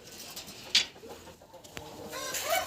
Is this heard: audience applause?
no